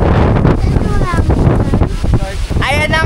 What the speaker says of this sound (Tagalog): nakikita nyo ang lakas ng hangin